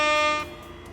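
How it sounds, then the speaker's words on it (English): A short, loud air-horn blast from the Jackbox Party Pack video game, a bright buzzing honk lasting under half a second before cutting off into quiet background. "Air horns for that domination."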